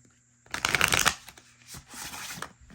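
A deck of Enigma Oracle cards by Daniel Martin Diaz, on thick, sturdy cardstock, is riffle-shuffled close up, giving two quick papery flurries of fluttering card edges with no talk.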